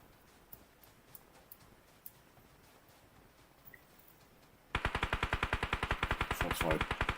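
Rapid automatic gunfire erupts in a video game, starting abruptly after a few seconds of near-silence with scattered faint ticks, then a steady, loud burst of evenly spaced shots running to the end.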